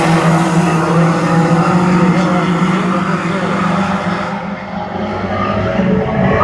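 Race cars run side by side for the lead at a short-track bullring race, with loud continuous engine roar and some tire noise. The sound stays close and dense, with a slight dip as the cars pass into the turn.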